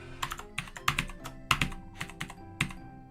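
Keys on a Mac computer keyboard clatter in quick, uneven bursts of typing, close and clear, with no voices.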